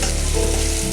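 Onion sizzling in hot oil in a pan, a steady dense crackling fry that stays loud and continuous throughout the short moment.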